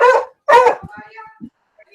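Two sharp, high-pitched yaps from a small dog ring out close by, followed by a few softer thumps and faint whimpers.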